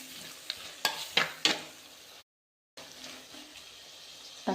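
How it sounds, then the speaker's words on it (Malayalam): Tomatoes and curry leaves sauté in a pan for an Andhra-style prawn curry, with a soft sizzle and a few sharp spoon scrapes and clacks, a brief dead gap, then more frying hiss. No one speaks. "കുറച്ച് കറിവേപ്പില ഇട്ട് കൊടുക്കാം. നല്ലോണം വഴറ്റി കൊടുക്കണം."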